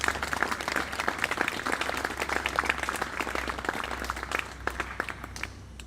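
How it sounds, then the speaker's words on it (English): Audience applause at a Brookline September 11th remembrance ceremony: a steady, dense round of clapping from a crowd, sustained throughout and easing slightly near the end. "showing them our appreciation for what they do with just a quick round of applause"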